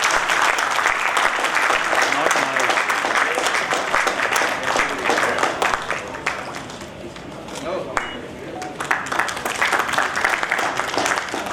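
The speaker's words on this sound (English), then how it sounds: "we want a big round of applause" An audience at an awards ceremony for an awardee gives steady, dense applause that continues for over ten seconds. The clapping thins slightly midway, then picks back up.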